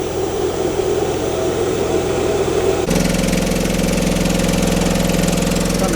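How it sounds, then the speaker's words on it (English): A small inverter generator engine runs steadily at low throttle, a continuous mid-pitched hum with a faint knocking texture that shifts to a firmer, louder drone partway through, with no voices. "I can hear the generator working because I haven't given it any more"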